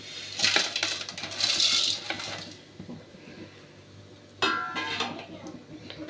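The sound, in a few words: vermicelli poured into ghee in a pan for frying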